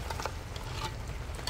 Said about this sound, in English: Let's stir it in.